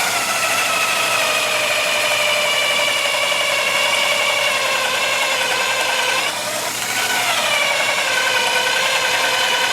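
A power drill drives a screw into wood while building a farmhouse kitchen table, its motor whining steadily and loudly at high speed, dipping briefly as the screw bites before spinning back up.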